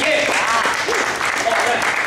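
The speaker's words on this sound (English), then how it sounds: "a little round of applause there" A crowd applauds a registered nurse at a fitness workout event, steady dense clapping filling the moment while voices talk over it.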